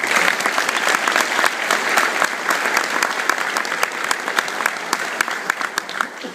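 Warm applause from a breakfast audience welcoming a keynote speaker, steady dense clapping that fills the room and gradually thins toward the end.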